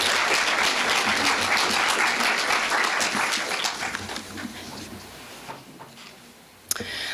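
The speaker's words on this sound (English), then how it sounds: "Let's give our judges a round of applause." Audience applause for the judges at a county 4-H public speaking contest, a dense steady clapping that fills the room, then thins and fades toward the end, with a sharp sound just before it stops.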